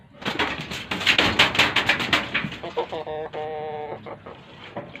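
Pet chickens cluck close by in a quick burst of overlapping calls, then a drawn-out tonal squawk, with faint voices in the background.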